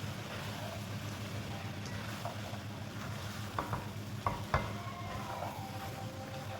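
Chickpeas being stirred into masala frying in a pan, a continuous sizzle with scraping spoon strokes and a few clinks against the pot, heard close with no talking.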